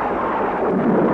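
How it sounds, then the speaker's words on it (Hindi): Thunder crashing during a storm, a dense, loud low rumble that rolls steadily for about a second with no voices. "बिजली तो बड़ी कड़क रही पर हो रही बरसात नहीं।"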